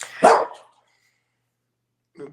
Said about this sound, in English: As soon as I unmute, he went to start barking.